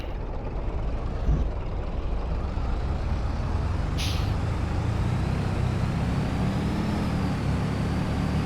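A truck in the video game Farming Simulator 22 rumbles steadily with a low, close engine drone, and a brief air-brake hiss bursts out midway; no one speaks.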